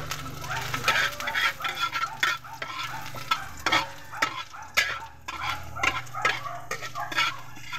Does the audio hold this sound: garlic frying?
yes